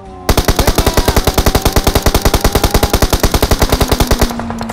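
Rapid sustained automatic-weapon fire from a Beryl rifle in PUBG Mobile, a loud, close burst of around forty evenly spaced shots lasting about four seconds before cutting off abruptly.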